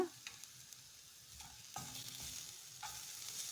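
Chili powder being stirred into a frying vegetable mixture for cutlets, a soft scraping stir with gentle sizzle underneath and a few spoon knocks on the pan, close and fairly quiet.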